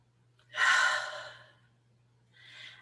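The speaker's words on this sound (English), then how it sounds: "let's just take a deep breath." One deep breath, a long audible inhale and exhale close to the microphone in a quiet room, with a fainter second breath following a moment later.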